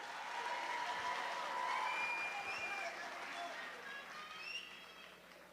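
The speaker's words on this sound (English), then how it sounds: "can we get another round of applause for our amazing band?" Applause for the band at a high school graduation ceremony, broad clapping from a large crowd heard at a distance, with some cheering or whistles mixed in, gradually thinning out.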